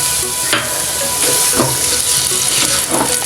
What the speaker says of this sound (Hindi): यह हमने एक दरमियानी प्याज काट के रखी है वो शामिल कर रहे हैं